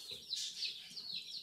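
Young guinea hen keets and chicken chicks chirp faintly and continuously, with high overlapping peeps close by.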